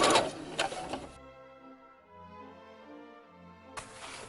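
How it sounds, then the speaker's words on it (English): A sewing machine runs a straight stitch along the sides of a fabric hat in two short, buzzing bursts, one at the start and one at the end, with a quieter hum between them. "It's just a simple, easy straight stitch."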